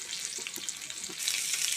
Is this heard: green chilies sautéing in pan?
yes